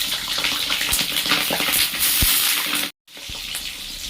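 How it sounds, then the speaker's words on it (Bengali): Eggplant slices fry in hot mustard oil in a kadai, giving a steady loud hiss and crackle with scattered pops and clinks, broken by a brief moment of silence. "বেগুনগুলো সামান্য একটু ভেজে নেব।"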